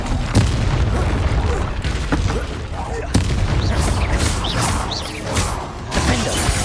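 Confringo spell explosions in the video game Hogwarts Legacy, heard as a run of deep booming blasts and sharp cracks over a busy, dense layer of combat noise.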